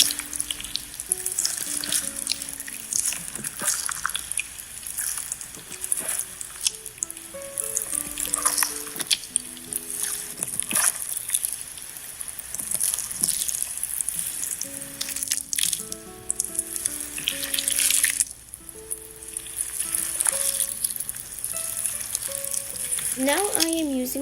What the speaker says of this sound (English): We are now mixing the slime.